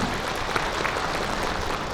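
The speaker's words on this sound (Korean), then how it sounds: "박수로 하나님께 영광 드리겠습니다" A church congregation at a Korean thanksgiving service applauds in praise, a dense, even wash of clapping filling the room at a constant level.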